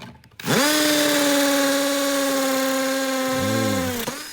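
A small cordless impact screwdriver (MASARU) driving a screw into a wall whirs steadily for a few seconds, its pitch dipping briefly under load near the end before stopping.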